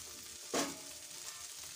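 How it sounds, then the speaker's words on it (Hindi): Potato and okra curry cooking covered on a low flame, giving a soft, continuous sizzle and hiss with one brief louder burst of frying near the start, close and without talk. "अब इसे ढककर 4-5 मिनट तक धीमी आंच पर पकाएंगे।"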